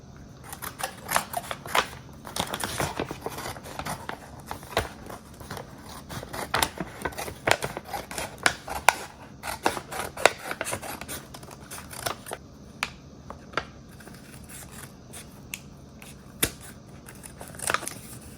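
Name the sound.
scissors cutting out traced shape from Dollar Tree bag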